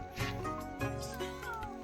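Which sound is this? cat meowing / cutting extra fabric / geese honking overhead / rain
cat meowing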